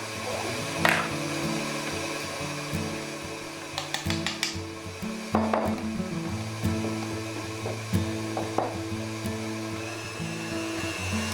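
An electric hand mixer whirs through pumpkin cookie dough, a steady motor drone with pitch shifts as the beaters work, punctuated by occasional clicks and knocks against the bowl.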